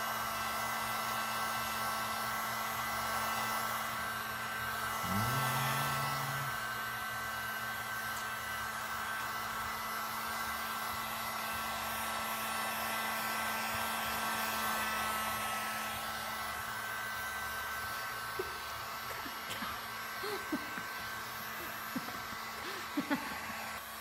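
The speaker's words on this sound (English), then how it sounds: "we're gonna hit it with the heat gun" A heat gun blows steadily on window tint film for a Dodge Ram front window, a constant whooshing hum that fills the whole stretch with a small pitch shift partway through and light handling noises near the end.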